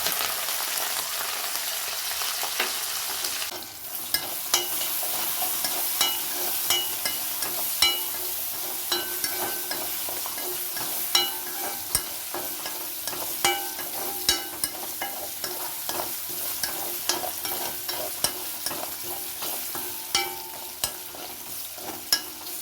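Garlic, curry leaves and ginger fry in a pan with a steady, close sizzle, broken by regular clicks and scrapes of stirring throughout.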